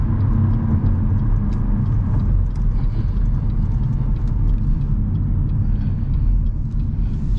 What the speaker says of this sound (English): check traffic and then make that nice turn, and then I accelerate